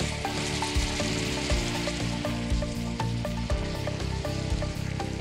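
Mushrooms sizzle steadily in a pan as white vinegar cooks off, a dense, even frying hiss with no voices.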